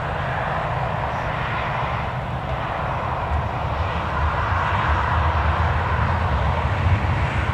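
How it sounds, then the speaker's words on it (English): An Emirates airliner taxis at Newcastle Airport, its engines giving a steady, loud, broadband roar that holds throughout with no talk. "we've obviously got the Emirates as well taxiing"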